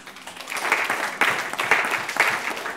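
Church congregation applauding, a burst of clapping that rises after a quiet start and comes in uneven waves, moderately loud and close, with no speech over it.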